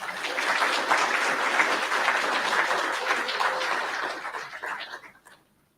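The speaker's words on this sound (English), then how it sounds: "I know that you applauded" Audience applause at a medical school white coat ceremony: dense, steady clapping from a large crowd that holds for several seconds, then thins out and dies away.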